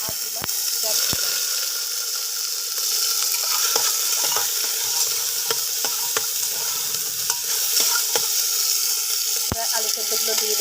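Chopped ginger, chili, tomato and capsicum sizzle steadily in a hot pan for a soybean curry, a close, continuous frying hiss broken by sharp clicks and scrapes of a spoon stirring the mixture.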